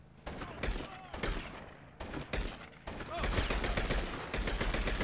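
Heavy gunshots in a True Crime New York shootout, several loud booming blasts spaced unevenly, then a thicker stretch of overlapping shots and crackle, with a voice talking under the firing.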